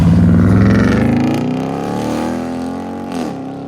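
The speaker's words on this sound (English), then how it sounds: "Let's see how she sounds taking off." A supercharged Dodge Charger R/T with Corsa Xtreme exhaust roars loudly and then accelerates away, its rising exhaust note gradually fading into the distance.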